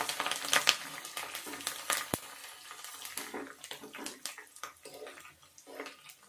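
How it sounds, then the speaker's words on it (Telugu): Garlic fries in hot oil toward golden brown for a lemon pickle, producing a dense, bubbling, hissing sizzle that rises and falls unevenly with one sharp click, close and without talk. "ఈ ఎల్లిపాయలు అయితే కొంచెం గోల్డ్ కలర్ వచ్చేదాకా వేగాలి"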